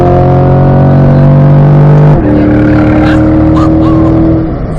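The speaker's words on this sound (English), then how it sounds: "Start to accelerate, full acceleration." A car accelerates at full throttle on a race track, its engine note loud and close, climbing, then dropping sharply at a gear change before climbing again.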